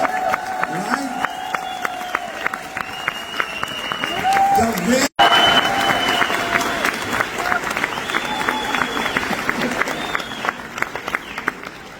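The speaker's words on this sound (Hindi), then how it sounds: "मैं चाहूंगा एक बार जोरदार तालियां" Applause from an audience at a Vestige award function in Delhi, a long, steady patter of clapping that runs throughout, with tones and crowd sounds layered over it and a brief dropout partway through.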